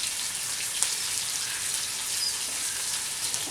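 Flour-dredged roast searing in a Dutch oven at an outdoor cookout, a steady dense sizzle and crackle of hot fat that holds constant throughout with no voices.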